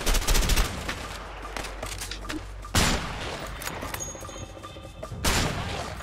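Video game gunfire in rapid bursts, loud at the start, then sparser shots and crashes, with another heavy volley near the end.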